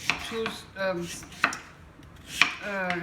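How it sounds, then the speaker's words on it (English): A knife chops through raw butternut squash on a board, four crisp, sharp cuts spaced about a second apart, close and fairly quiet, with a voice speaking between and under the chops. "And now I'm cutting, you see, the the butternut squash"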